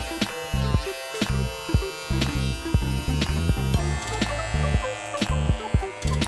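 Electric shears shave down the pile of a tufted rug with a loud, close buzzing hum broken by repeated short clipping bursts as the blades pass over the yarn.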